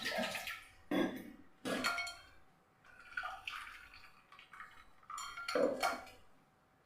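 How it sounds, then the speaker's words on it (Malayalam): Ice water is poured into a blended lime drink and strained, heard as soft, intermittent clinks and knocks of utensils against a vessel with a faint trickle, quiet and close, no voices. "ഒരല്പം ഐസ് വാട്ടർ ഒഴിച്ച് കൊടുത്തിട്ട് ഒന്ന് അരിച്ചെടുക്കാം"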